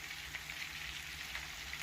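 Buttermilk-battered chicken fries in a pan after being flipped, giving a steady, faint, even sizzle and crackle of hot oil throughout, with no voices.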